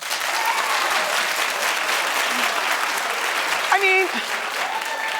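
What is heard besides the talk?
studio audience clapping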